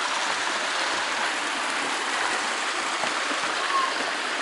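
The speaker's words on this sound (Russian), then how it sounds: "Вот такой водопад, ребят." A waterfall on the 33 waterfalls excursion gives a steady, dense rush of falling water, loud and unbroken from start to end, with no voices rising above it.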